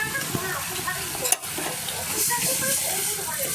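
Raw onion with its skin still on fries in homemade hair oil over low gas, a continuous close sizzle and hiss with a sharp clatter as a piece drops in partway through.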